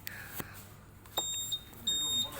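Two short, high electronic beeps sound close by from a Honda Click 150i scooter's smart key ignition switch, each followed by a brief pause, after a couple of soft clicks.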